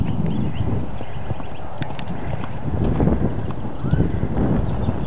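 A mare cantering in circles on a lunge line, her hooves thudding in a steady three-beat rhythm on the ground at moderate distance, with wind buffeting the microphone throughout.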